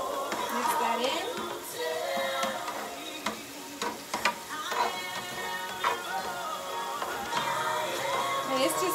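Sofrito sizzling in a hot pan for pastelitos, a steady crackling fry with occasional stirring clatter, close and loud, with a voice talking over it at times.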